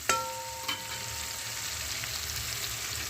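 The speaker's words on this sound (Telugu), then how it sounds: "బాగా ఫ్రై అవ్వాలండి." Cumin seeds and asafoetida frying in oil in a pan for a pickle, giving a steady close sizzle with two brief clinks at the start and no talking.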